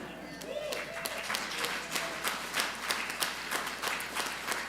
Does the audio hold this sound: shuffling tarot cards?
no